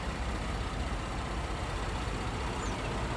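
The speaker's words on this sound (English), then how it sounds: "The vehicle is running." A 2011 Ford F-150 4x4 pickup idles steadily with a low, even engine rumble that stays close and constant throughout, with no voices.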